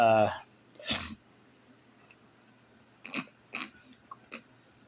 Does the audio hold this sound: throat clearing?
yes